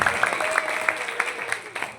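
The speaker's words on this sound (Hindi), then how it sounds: "एक बार जोरदार तालियां हो जाए।" Audience applause at a live mind-reading stage show in Delhi, a steady wash of clapping with periodic louder bursts running through the full two seconds, moderately loud and fairly close.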